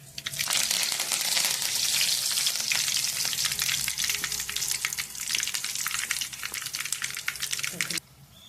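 Curry leaves and homemade spices hit hot oil for aloo paratha filling, giving a loud, continuous crackling sizzle that stops abruptly near the end, with a voice faintly present.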